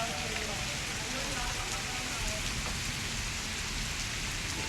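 Rain falls steadily during an outdoor street cricket match, a dense, even hiss of drops hitting the ground with faint voices in the background.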